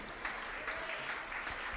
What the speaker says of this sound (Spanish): Aplauda al Dios del cielo.